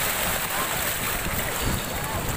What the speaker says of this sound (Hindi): देखिए पानी आ रहा है, देखिए पानी आ रहा है।